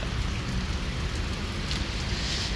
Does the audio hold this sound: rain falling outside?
yes